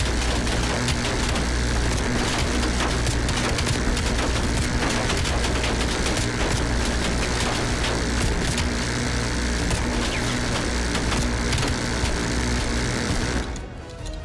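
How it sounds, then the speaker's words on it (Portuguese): Heavy, continuous gunfire and explosions from a Call of Duty Cold War campaign battle on PS5, a dense loud barrage filling the whole stretch before cutting off abruptly near the end. "Nossa, tomamos muito tiro, velho."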